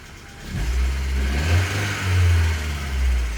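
A big-block engine swapped into a 2014 Chevy Spark revs from a low idle. A heavy, deep rumble swells and eases several times and stays loud and close throughout.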